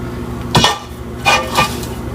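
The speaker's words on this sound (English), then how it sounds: "I'm going to put it in my cast iron pot." A big venison leg is set down into a cast iron pot, giving three short, resonant metallic knocks and scrapes, close and fairly loud in a quiet kitchen.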